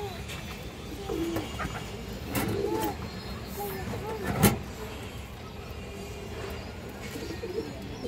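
Pigeons of a racing line in a farm loft, soft repeated cooing calls scattered through a low ambient murmur, with a sharp clack near the middle and a voice faintly in the background.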